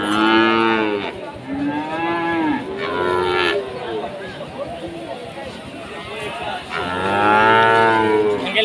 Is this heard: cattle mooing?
yes